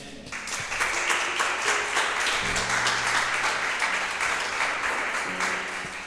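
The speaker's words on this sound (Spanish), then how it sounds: "¿Cuántos le dan un aplauso al Señor?" A church congregation bursts into sustained applause, a dense, steady wash of clapping that fills the room at an even, loud level for the whole stretch.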